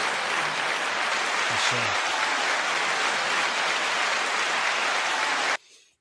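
A studio audience breaks into loud, dense applause that holds steady for several seconds, a wash of clapping alone before it cuts off abruptly at the end.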